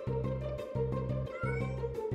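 A cartoon kitten stuck up in a tall tree meows repeatedly in a steady rhythm, three or so drawn-out cries close and clear over a looping musical background.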